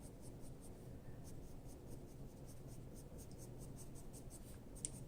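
Colored pencil in Sienna 945 being shaded across paper for a medium tone, giving a steady, close, dry scratching of continuous strokes with no talking.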